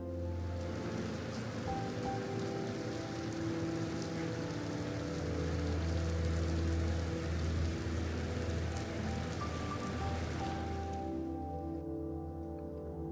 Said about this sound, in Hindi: और फिर तेज बारिश।